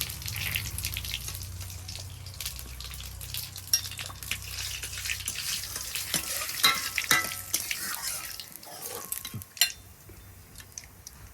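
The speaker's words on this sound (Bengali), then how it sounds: "তেল গরম হয়ে গেছে, এখন ফোড়নে দিয়ে দেব একটু গোটা জিরে আর তেজপাতা" Whole cumin seeds and bay leaves are tempered in hot oil for a home-cooked drumstick and lentil dal, giving a steady close crackling sizzle broken by stirring scrapes and a few sharp utensil clinks, with no talking.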